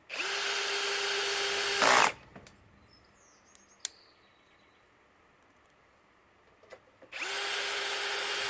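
A power drill drives screws into a metal gazebo frame outdoors: two loud, steady whirring runs of a couple of seconds each, separated by a quiet pause with faint clicks and a few birds.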